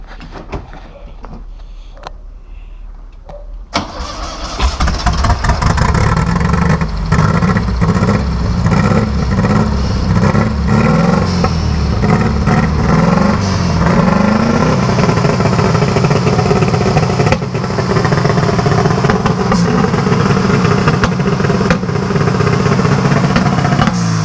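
A turbocharged Volkswagen Beetle with a Garrett 48/35 turbo and a rev limiter with three-step launch control sits quiet, then fires up and settles into a loud, continuous rumbling run with rising revs and clattering bursts close by.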